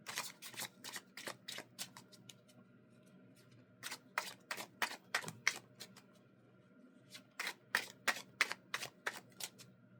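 Tarot cards shuffled and drawn in a quiet room, a steady series of crisp flicking and snapping bursts in uneven clusters, close to the listener with no talking.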